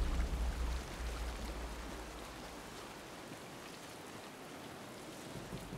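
Constant rainfall in the shooter game Sniper Elite 5, an even, hissing downpour with a low rumble at the start that fades, heard alone at moderate volume.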